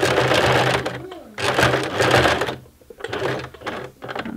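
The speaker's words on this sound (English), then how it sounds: "We're going to sew down that edge to hold those pieces together." A sewing machine stitches down the folded edge of a fabric tote bag, running in loud close bursts of rapid mechanical whirring, stopping briefly between runs and then starting again.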